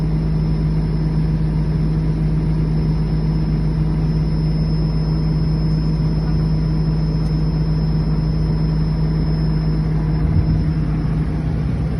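The heavy diesel engine of a PC200 excavator idles steadily and loudly up close during a daily inspection, a constant low rumble with a steady hum and no change in pace.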